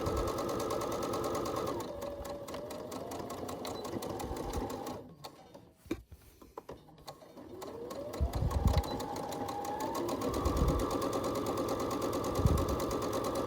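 A sewing machine stitches a fabric face mask in long continuous runs, its motor pitch shifting with speed, pausing briefly midway before resuming loud and close.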